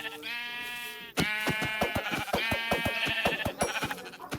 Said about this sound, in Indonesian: Oke, ada domba di sekitar sini.